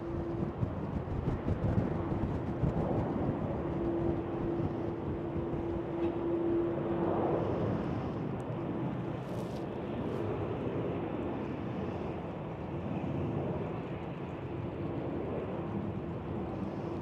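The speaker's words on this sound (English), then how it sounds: "737 taking off" A KLM Boeing 737 taking off at Amsterdam Schiphol on a windy day, a distant low steady jet roar under gusting wind noise throughout.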